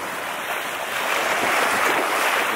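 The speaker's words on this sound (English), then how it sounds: "You can see the waves meeting on both sides." Waves meet over a sandbar off Snake Island on an overcast day, a steady broad wash of surf with wind buffeting the microphone and no voices.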